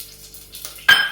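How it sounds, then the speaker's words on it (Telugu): Whole spices hit hot oil or ghee for a South Indian tempering, bursting into a sudden sharp sizzle after a quiet start and staying loud to the end. "ఇప్పుడు ఫస్ట్ మనం పోపు దినుసులు వేసేద్దాం."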